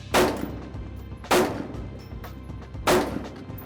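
Three sharp gunshots fired during target shooting, evenly spaced about a second and a half apart, each a loud close crack followed by a short decaying echo, with no talking.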